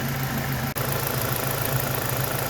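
A car engine idles while warming up until the thermostat opens, holding a steady low hum with a faint regular pulse. It is close, with one brief dropout early on.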